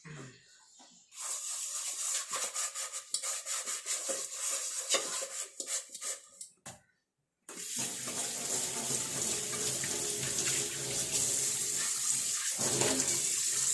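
Tap water runs steadily at close range while dishes are washed in a home kitchen sink, broken by a brief silence midway, with light clinks and rubbing over the stream.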